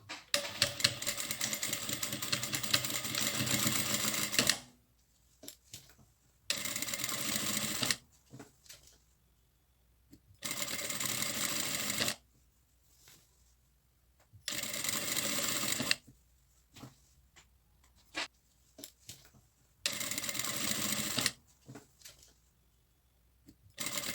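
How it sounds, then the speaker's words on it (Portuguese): Sewing machine stitching a drawstring backpack bag from the very edge, running in several bursts of a few seconds each, separated by quiet pauses with small clicks. "E eu vou começar a costura bem da pontinha mesmo."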